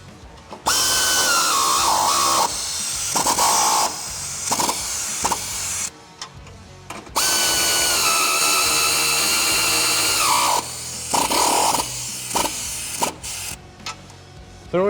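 Ratchet with an 18mm socket tightening nuts on a Mopar 3-piece Rubicon front bumper on a Jeep Wrangler JL, heard as long, loud whirring bursts of several seconds each, separated by short pauses and clicks, with no talk.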